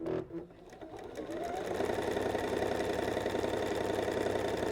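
A sewing machine running a long straight gathering stitch at its longest stitch length on fabric, starting after a brief pause and then humming steadily and rapidly close by for several seconds.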